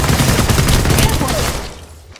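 A short, dense volley of rapid gunfire in the shooter game Apex Legends, loud and close, fading out over the last half second.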